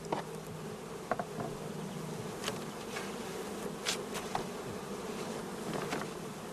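Honey bees buzz in a dense, steady drone around an open hive while a crowded colony is split into nuclei in brood boxes, with sharper passes of individual bees flying close by and no voices.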